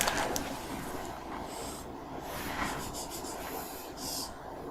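Marker or chalk scratches across a board as a circuit problem on equivalent resistance is worked out, a close run of short rubbing strokes and squeaks in uneven bursts, with no talk over it.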